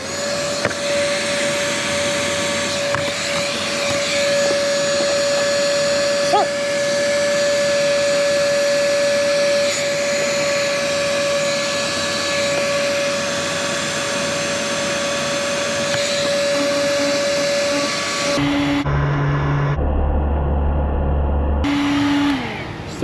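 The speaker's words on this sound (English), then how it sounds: "So now let's get some heat shrinking" A heat gun blows a steady, loud, continuous whoosh while shrinking heat shrink tubing on wiring in a Nissan NV 3500 van, held close with a faint tonal hum throughout, then cutting off near the end.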